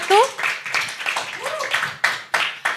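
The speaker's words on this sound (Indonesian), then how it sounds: "Tepuk tangan kepada paslon nomor urut 1." Short bursts of applause break out among the audience at a student presidential debate at a university, scattered claps heard under a moderator's speech.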